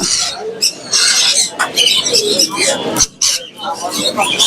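Dense, busy chirping and cooing from many birds at the Mirpur bird market in Dhaka, close and continuous, with people talking over the din.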